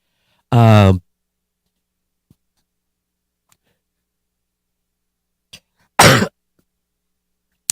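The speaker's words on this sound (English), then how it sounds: "I'm coughing in your ear because I don't have a silence button" Two short, harsh coughs separated by several seconds of near silence, close to the microphone, with a few faint clicks in between.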